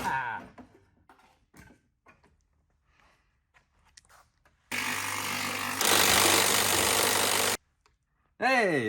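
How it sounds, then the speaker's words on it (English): An impact wrench with an impact socket hammers at a stuck stud on a Nissan 350Z, giving a loud, steady rattling burst of about three seconds after a few quieter clinks and taps of tools. "We're gonna use an impact socket."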